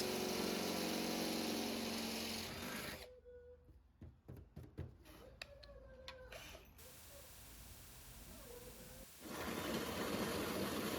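A power drill bores mounting holes through the metal body of a Toyota Fortuner for a snorkel, with sharp stuttering bursts of drilling and mechanical whirring between louder stretches of steady noise.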